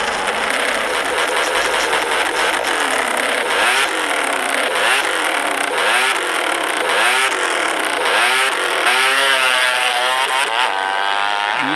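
A motorcycle engine revs hard and close during a motorcycle race, pitch climbing and falling in repeated surges, loud and continuous throughout.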